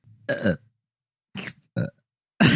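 A series of loud, deep burps comes in four separate bursts with silent gaps between them, the last cut off at the end.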